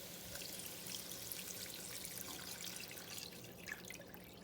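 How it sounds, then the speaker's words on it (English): Four cups of water pour into a pot of chicken chili as a soft, continuous watery trickle, faint and steady, with no talk. "I'm going to add 4 cups of water."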